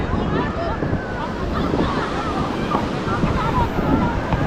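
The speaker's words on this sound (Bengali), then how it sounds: "তো পুরীর সমুদ্রে কিন্তু প্রচুর ঢেউ, আর ঢেউগুলো অনেক বড় বড় বড় বড়।" Big waves crashing steadily on crowded Puri beach, a continuous loud roar of surf with wind buffeting the microphone and faint crowd voices mixed in.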